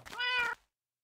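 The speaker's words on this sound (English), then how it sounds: "that's the sound of the cat here." A single short, clear meow from a Minecraft cat, a bright tonal cry lasting about half a second, followed by silence.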